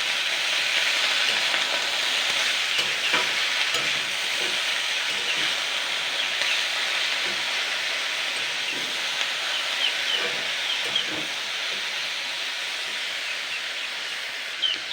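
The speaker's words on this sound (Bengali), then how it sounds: "তো 2-3 মিনিট হালকা ভাজা হয়ে গেছে।" Pumpkin greens with peas are stir-fried in a pan, giving a steady, bright sizzle and hiss that runs on for a long stretch, with faint stirring knocks now and then and no talking.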